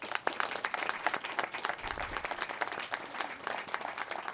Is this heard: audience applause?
yes